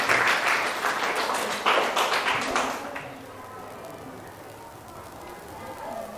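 Students clap in a classroom in a short burst of uneven, close handclaps lasting about three seconds, then fading into quiet room noise.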